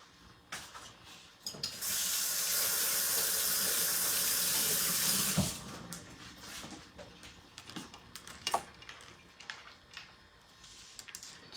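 Strawberries are rinsed under a running kitchen tap: a loud, steady rush of water lasts several seconds, then stops, followed by drips, light handling clicks and soft knocks nearby.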